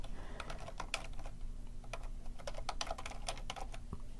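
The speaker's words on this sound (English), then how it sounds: "I'm just gonna type my domain name" Typing on a computer keyboard while entering a domain name into a website settings form, with steady close key clicks in quick irregular bursts over a faint low hum, no voices.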